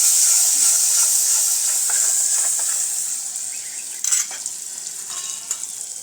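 Curry leaves and half a tomato stirred into a hot frying pan, a loud close hiss and sizzle that gradually eases, with a few spoon scrapes and clinks near the end.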